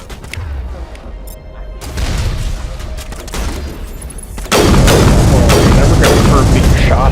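Booming gunfire and heavy impacts ring out in Mass Effect, scattered at first and then swelling into a dense, loud, continuous barrage.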